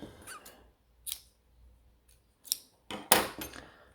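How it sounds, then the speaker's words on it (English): Scissors snip through crochet yarn in a handful of sharp, separate cuts spaced irregularly over a few seconds, close and crisp against near silence, with no voices. "And now we can cut our yarn"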